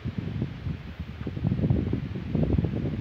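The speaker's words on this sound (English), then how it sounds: "The fucking wind is kicking." Strong outdoor wind gusting around twenty miles an hour, a steady low rumbling buffet with rustling that swells louder in the second half.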